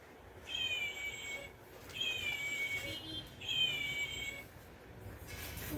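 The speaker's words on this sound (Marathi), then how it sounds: "याच्यामध्ये कॅट आहे जी आवाज करते." A soft toy cat plays a recorded meow three times in a row, each electronic-sounding cry about a second long with short gaps, over quiet gift-shop background noise.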